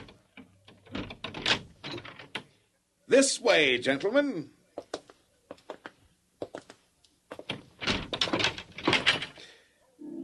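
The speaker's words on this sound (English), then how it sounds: "unlock the door to my treasure house" A treasure house door is unlocked and swung open, giving a few solid knocks and a scraping thunk, set among short stretches of nearby talk.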